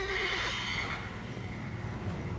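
A mare whinnies loudly at the start in the video game The Witcher 3, the high wavering neigh fading into softer snorting and background noise.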